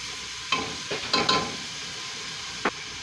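A tablespoon of garlic sizzles in a soup pot with vegetables, a constant close hiss broken by a few quick scraping stirs of a spoon.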